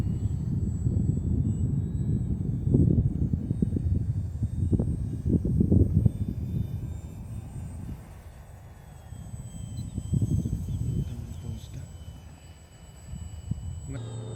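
Arrows Trekker RC model airplane flying a roll in windy conditions, its electric motor a steady droning whine with swelling and fading passes, heard under buffeting wind noise and someone talking.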